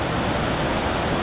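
The River Okement on Dartmoor rushes in a steady, loud, dense roar of flowing water, with no other sounds.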